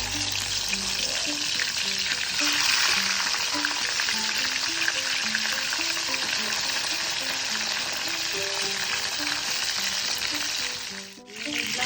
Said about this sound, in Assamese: এতিয়া বেঙেনাখিনি অলপ ফ্ৰাই কৰি দিলোঁ।